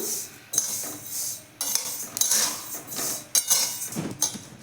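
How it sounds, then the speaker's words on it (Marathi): Sesame seeds being dry-roasted in a pan for Ratha Saptami til polis, with repeated bursts of metal spatula scraping and clinking against the pan, loud and close, alone with no talk. "आता आपण तीळ आणि शेंगदाणे घेऊयात भाजून छान असे आपण खरपूस तिळं घेणार आहोत भाजून"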